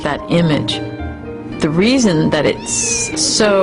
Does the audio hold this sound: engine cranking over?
no